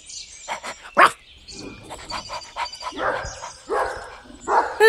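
A dog barks in a children's audio drama, giving several short sharp barks and yips with a louder bark early on, mixed with whimpering and other animal-like vocal sounds, close and clear.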